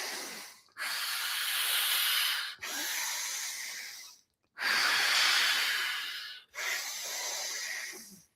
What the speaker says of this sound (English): Deep diaphragmatic breathing.